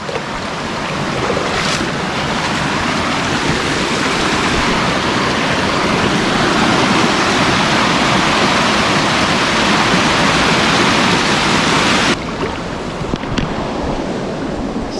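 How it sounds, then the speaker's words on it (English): A small waterfall rushes continuously, a loud broadband splashing roar up close that drops away abruptly near the end. "I've started to bump into a few of these little waterfalls"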